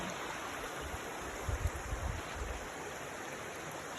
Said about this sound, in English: We've got a nice little waterfall underneath us.